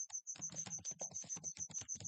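A command being typed on a computer keyboard: a quick, even run of about a dozen light key clicks close to the microphone, heard alone and fairly quiet.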